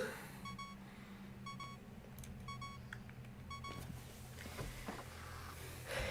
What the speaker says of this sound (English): Sorry about the beeping. I'll kill him soon so it stops.